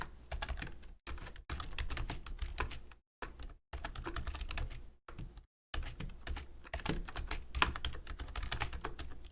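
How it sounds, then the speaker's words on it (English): A brand-new, loud keyboard that sounds much like a mechanical one clacks in rapid continuous typing bursts with brief pauses, close and prominent, with no talking. "sorry for how loud my keyboard is. It's brand new and it sounds a lot like a mechanical keyboard."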